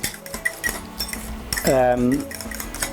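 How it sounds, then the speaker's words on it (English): Egg yolks are beaten in a bowl, a metal utensil clinking and scraping against the sides in quick, uneven taps, close by, with a short voice-like tone partway through. "I'm going to just get these egg yolks together. Just beat them a little bit."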